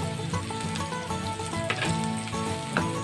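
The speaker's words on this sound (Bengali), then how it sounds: "কারি পাতাটাও এই পেঁয়াজের সঙ্গে আমি একটু ভেজে নেব।" Curry leaves and onion fry in a pan for semolina upma with a steady, close hiss and fine crackling spatter that holds without a break.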